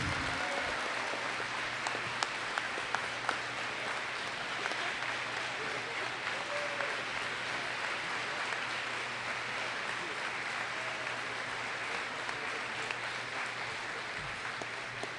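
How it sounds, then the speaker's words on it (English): An audience at a school awards assembly at Bellarmine Preparatory School claps in sustained applause, a steady, moderately distant patter that continues evenly for the whole stretch. "Let's get a big round of applause for these students."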